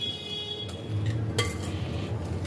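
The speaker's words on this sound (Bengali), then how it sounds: "খানিকটা অ্যাড করে নিলাম, নিয়ে প্রথমে একবার মিশিয়ে নিচ্ছি।" A spoon stirs fruit cake batter in a bowl, giving soft scraping swishes and a few light clinks of metal against the bowl, close by and fairly quiet, with no talking.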